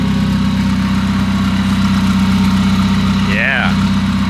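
A freshly built car with its engine mounted mid-ship behind the strut towers idles steadily, a loud continuous low rumble with a brief rising whine near the end; no talk.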